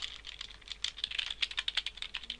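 Rapid, steady clicking of a computer keyboard, typed up close with even keystrokes and no talking, the clatter brightening slightly toward the end.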